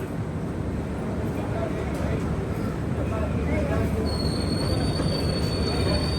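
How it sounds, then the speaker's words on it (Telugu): Humsafar Express train pulling into a station and coming to a halt, a steady low rumble of rolling wheels with a thin squeal rising near the end, speech faintly present. "ఆగింది బండి, జస్ట్ అలా ఆగింది"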